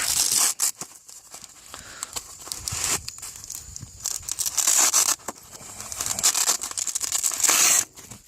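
Protective film peeled off polished aluminum shocks, close crackling and tearing plastic in uneven bursts with crinkling handling noises between pulls.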